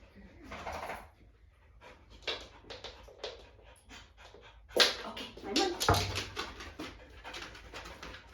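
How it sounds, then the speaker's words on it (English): A dog whimpering and panting indoors in short bursts with pauses, a few soft coo-like whines and breathy pants close by, with a sharper louder stretch in the middle. "I'm going to go get the dog."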